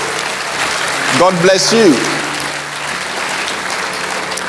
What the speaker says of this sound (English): Let's give Jesus a big hand clap for these people.